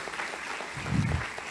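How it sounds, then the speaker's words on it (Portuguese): Brief burst of applause from a church congregation during a Portuguese-language sermon, a short swell of clapping rising over a steady low murmur. "Outro aplauso para o Senhor Jesus aqui."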